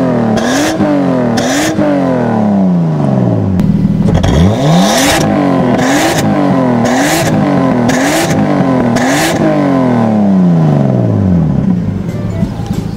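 Nissan Skyline R34 GT turbo (ER34) engine with an optional switchable muffler set to silent mode, revving repeatedly in rising and falling sweeps, loud and close, with no talk.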